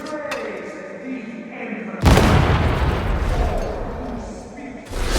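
A grenade goes off in Warhammer 40000 Darktide, a sudden loud boom cutting through quieter game sound and leaving a long, roaring rumble of debris and noise, followed by another burst at the end.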